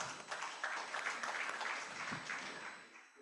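A crowd at a national adolescent health stakeholders forum applauds steadily for a few seconds, a dense wash of clapping that gradually thins out toward the end.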